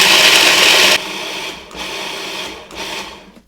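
Nuts ground to a coarse flour in a pulsing food processor: a loud whirring burst, then several shorter on-off pulses that fade toward the end.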